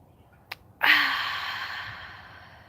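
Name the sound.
deep breath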